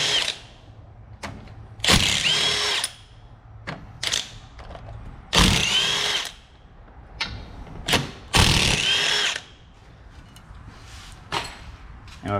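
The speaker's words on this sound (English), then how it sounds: "you'll be unbolting the 5 bolts that hold the wheel bearing to the steering knuckle" A power tool, likely an impact wrench, unbolts the five bolts holding the wheel bearing to the steering knuckle on a Ford Transit. It fires in several loud, close bursts of varying length separated by quieter gaps.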